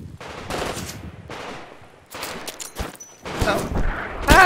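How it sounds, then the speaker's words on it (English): Repeated bursts of enemy automatic gunfire in the Titanfall tutorial, loud rattling volleys separated by short pauses, growing denser and heavier toward the end with sharp impacts. "They're shooting at me."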